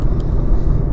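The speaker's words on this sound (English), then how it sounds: "it's 5 o'clock traffic right now" Rush-hour road traffic rumbles in a dense, continuous low roar of passing cars, loud and close with no distinct individual vehicles standing out.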